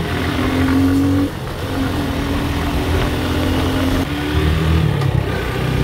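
A motorbike engine from a group of riders on a morning road runs steadily close by, idling and revving with a brief drop in level before picking up again.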